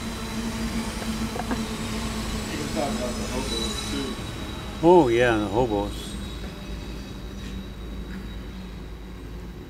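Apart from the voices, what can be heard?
train passing by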